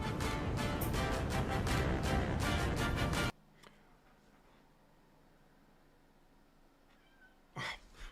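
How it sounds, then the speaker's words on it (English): Milo the cat lets out a short meow near the end, faint and brief against a quiet room, after a loud stretch of broadband noise that cuts off abruptly. "Milo's meowing at me"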